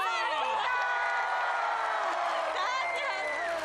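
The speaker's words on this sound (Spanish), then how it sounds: "Que le den un aplauso muy grande a nuestra nueva invitada" A television studio audience at a masked singing competition cheers and whoops loudly to welcome a new guest, with sustained, bright crowd noise and rising shouts filling the whole stretch.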